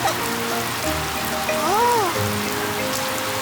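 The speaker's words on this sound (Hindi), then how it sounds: "पेपा ने पाइप पकड़ी और डैडी पिग ने पानी शुरू कर दिया।" A garden hose sprays water in a cartoon, giving a steady broad hiss throughout, with a brief voiced exclamation and a short whistling tone partway through.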